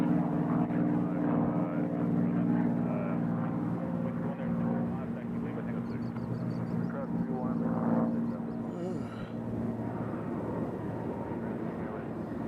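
Steady droning engine of an aircraft climbing out from Nashville International Airport, a continuous moderately distant hum lasting throughout, with a voice talking over it.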